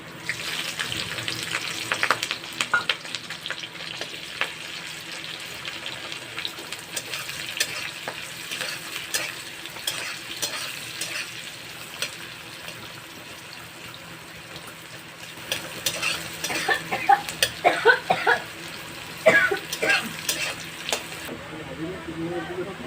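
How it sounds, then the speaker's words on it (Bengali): Onion and green chilli sizzle as a tempering in hot oil left from frying fish, with a continuous crackling hiss and intermittent spatula stirring, louder toward the end, and a voice speaking now and then. "এবার এখানে ফোড়ন দেব পেঁয়াজ কাঁচা লঙ্কা"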